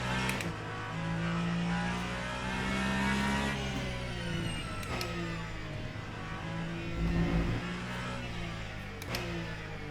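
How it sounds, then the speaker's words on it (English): A Ferrari hypercar in the Le Mans Ultimate racing game holds a high, whiny engine note that rises and shifts steadily through gear changes, loud and close and heard on its own. "I do like that whiny sound of the Ferrari."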